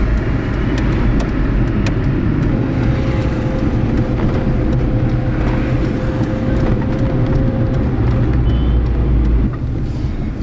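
Steady roar of early-morning road traffic in Kathmandu at 5 a.m., with cars and heavier vehicles rumbling past continuously and a faint brake hiss, loud and close, no voices.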